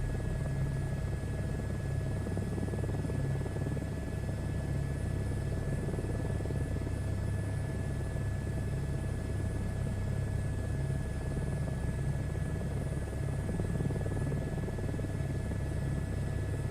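A simulated helicopter in a VR flight game holds a steady, continuous rotor and turbine drone with a constant whine and a low rumble, unchanging and close, with no voices.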